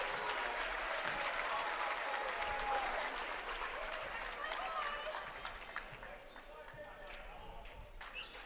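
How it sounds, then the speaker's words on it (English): Crowd applause in a gym during a high school boys basketball playoff game, steady broad clapping that eases after a few seconds, with an announcer talking over it. "The crowd put their hand together."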